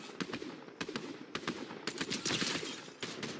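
Rapid gunfire in the video game Fortnite, dense repeated shots in quick bursts with short gaps, loud and close throughout.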